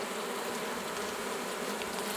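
Steady, dense buzzing of many honeybees at a hive in April, continuous and close, filling the whole moment with no voices.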